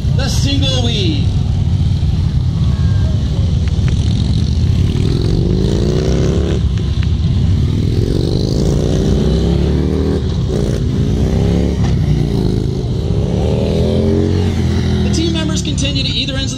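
Golden Helmets motorcycles ride the single weave at Blue Mountain, with engines repeatedly rising and falling as riders pass close by. A loud announcer talks over the whole stretch.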